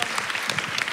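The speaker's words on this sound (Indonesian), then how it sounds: "Mari kita beri tepuk tangan sekali lagi untuk Tuhan." Congregation clapping steadily together during a church Sunday service, a dense, continuous round of applause filling the room with no speech over it.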